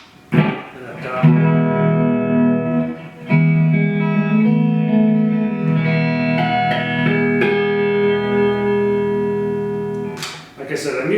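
A 1989 Ibanez RG550 electric guitar played through distortion, sustained ringing chords with a thick, saturated tone and a few pick attacks and changes, loud and close.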